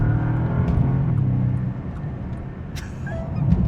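A Bentley's engine drones with a steady low rumble while it accelerates to overtake, heard from inside the car, loud and continuous with a slight dip partway through.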